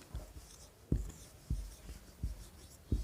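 Pen or chalk writing out a math solution during a lesson, giving soft scratchy strokes with a few sharper taps at irregular intervals, faint and close in a quiet room.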